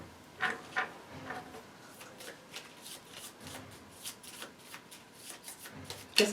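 A deck of game cards from the board game Kingdom Death: Monster is shuffled by hand close by: soft riffling and sliding bursts, irregular and quiet, with a sharper snap near the end and no speech.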